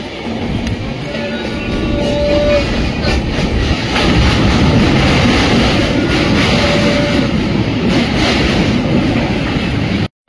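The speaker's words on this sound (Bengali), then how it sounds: "ট্রেনটা এখন গঙ্গার ওপর দিয়ে যাচ্ছে" The Nilachal Express rumbles steadily across a long bridge over the Ganga, a loud, continuous roar of wheels and carriage noise that swells and holds for the whole stretch.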